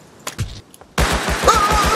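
Gunfire in the Rust survival game opens with a few scattered sharp cracks, then becomes a loud, rapid burst of repeated shots in a steady rhythm.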